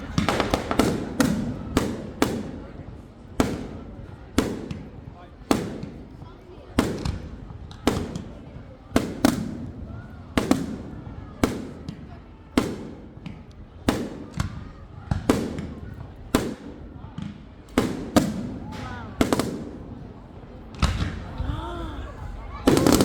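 Fireworks burst one after another in a steady series of sharp, loud bangs spaced a second or two apart, with spectators' voices faintly heard between explosions.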